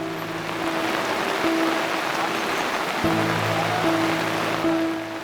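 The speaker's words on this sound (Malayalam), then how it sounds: "പ്രകൃതി ഒടുവിൽ എല്ലാ നിയന്ത്രണങ്ങളും വിട്ട് പൊട്ടിയപ്പോൾ മഴ കോരിച്ചൊരിയുകയാണ്" Heavy rain pours down steadily at a temple festival in Kottiyoor with an elephant present, a dense continuous wash of noise with faint tonal droning running beneath it.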